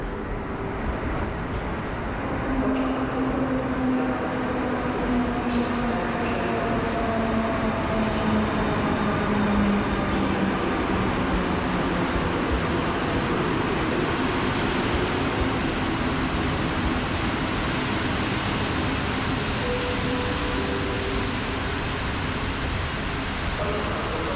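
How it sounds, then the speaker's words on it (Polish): Trains at Wrocław Główny station, a Polregio unit and a Zefir express from Przemyśl to Ustka, rumble steadily for the whole stretch with rolling wheel noise and faint squealing tones, loud and continuous with no talk. "Polregio do stacji Racibusz a obok nas pociąg z Przemyśla do Ustki, czyli Zefir."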